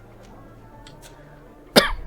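A single sharp cough lands close to a microphone near the end, breaking a quiet room tone.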